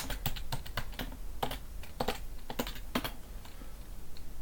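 Quick, light keystrokes patter on a computer keyboard as a password is typed, a soft irregular run of clicks close by in a quiet room.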